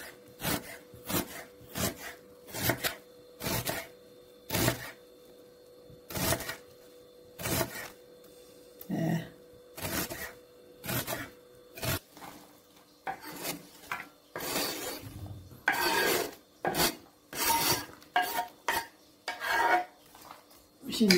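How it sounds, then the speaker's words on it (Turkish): A knife chops onion on a cutting board for a baked chicken and pilaf dish, giving a series of crisp, close, irregular strokes with short pauses between bursts. "Şimdi soğanımızı doğradık."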